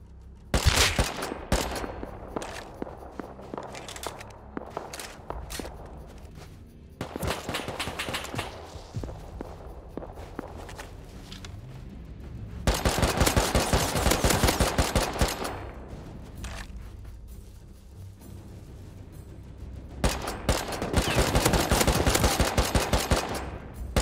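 Sustained automatic AK gunfire from the Rust video game, long rattling bursts separated by short pauses and quieter stretches, loud and dense throughout with no talking.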